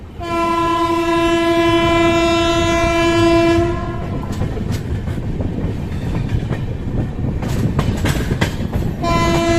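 An express train departs Bairgania railway station, its loud horn blaring steadily for several seconds before giving way to rumbling wheels and rhythmic clatter, with short horn bursts returning near the end.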